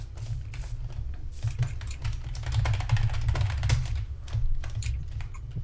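Rapid tapping on a keyboard, continuous clicks over a steady low rumble, close and moderately loud.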